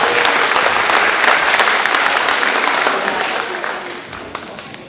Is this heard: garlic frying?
no